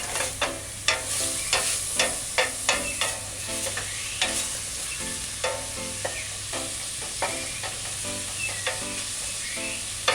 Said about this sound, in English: you just mix in everything now and stir fry